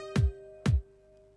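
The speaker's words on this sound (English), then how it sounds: "At the moment the kick drum sounds like this" Two deep kick drum thumps about half a second apart, with a faint sustained tone ringing underneath and no voices.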